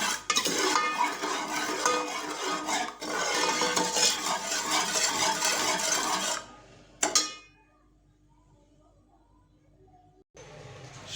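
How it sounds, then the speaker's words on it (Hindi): A spoon stirs a carrot murabba mixture of sugar and water in a pot, close scraping and swishing for about six seconds, then near silence with a brief clink. "अब इसे करेंगे हम अच्छी तरह से मिक्स।"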